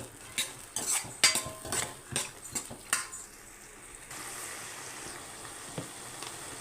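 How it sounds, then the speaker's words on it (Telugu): Potatoes and chana dal being stirred in a pan: a run of sharp metal-on-pan scrapes and clinks over the first few seconds, then a steady low sizzle with a faint scrape near the end. "మొత్తం వేసేసుకొని ఇప్పుడు తిప్పుకుందాం"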